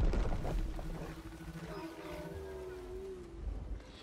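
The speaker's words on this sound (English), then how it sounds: "Let's see if we can kill this wolf this time." A wolf in the LEGO Fortnite video game growls and snarls in a rough roar that rises to a drawn-out tonal howl, fairly close amid other game sounds.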